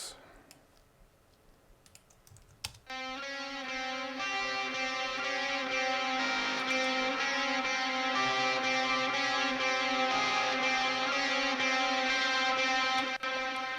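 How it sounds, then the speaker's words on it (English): Heavily distorted electric guitar playing a melody that fades in after a quiet start with faint clicks, then sustains steadily and fairly loud. "it's electric guitar, and it is the same melody"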